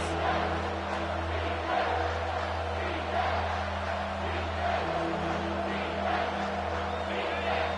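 Home crowd roaring in an NCAA college football video game as the defense tries to get off the field on third down: a steady, dense wash of distant stadium noise with no sharp peaks, running the whole time.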